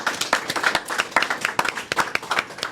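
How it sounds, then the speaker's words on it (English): An audience at a live show in a Salt Lake City restaurant claps for two elders, brisk rhythmic applause from a modest crowd, close and clear with no talk over it. "Let's give both of those elders a big round of applause."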